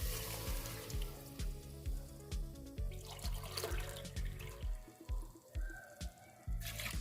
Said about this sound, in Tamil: இதில் நான் 5 கப் தண்ணி ஊற்றுறேன்.